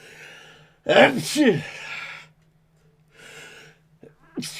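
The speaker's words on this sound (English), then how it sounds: "I got to sneeze" A broadcaster's sneeze during a 2001 Red Sox at Braves baseball replay, a sharp, loud burst with a breathy intake, followed by quieter breaths over a steady low hum.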